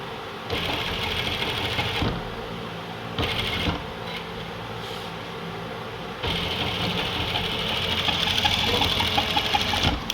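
A sewing machine runs steadily, stitching a double seam across a shirt shoulder, its rapid mechanical whir close and loud with a few brief pauses and restarts.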